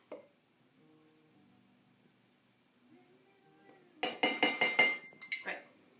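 A measuring cup digs into flour and is emptied into a bowl for chocolate chip blondies: a faint scrape first, then a quick run of sharp, close clinks and taps against the bowl.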